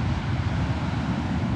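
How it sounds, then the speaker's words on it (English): Strong wind buffets the microphone on the southern Oregon coast at Bandon, a steady loud roar of low rumble with no gaps. "Windy."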